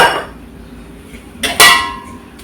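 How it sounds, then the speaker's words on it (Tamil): A metal kadai pan set down on a kitchen stove for sambar masala, a couple of sharp loud clanks close by after a faint opening clatter, with a ringing metallic tail and no talk. "வடச்சட்டி வச்சு கொஞ்சம் ஆயில் விட்டு"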